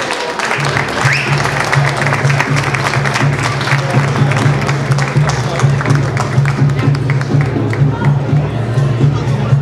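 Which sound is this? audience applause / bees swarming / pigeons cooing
audience applause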